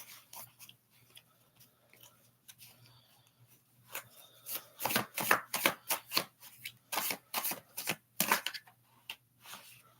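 Tarot cards being shuffled by hand: soft riffles at first, then a run of crisp, close, rapid card flicks and slaps.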